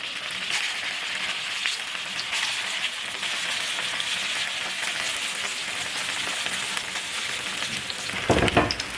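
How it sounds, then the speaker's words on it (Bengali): Fish kofta balls frying in a pan of hot oil, a steady dense sizzle that runs unbroken throughout and swells into a brief louder crackle near the end. "তেলটাকে খুব ভালো করে গরম করে আমি এখন কোপ্তাগুলো দিয়ে দিব"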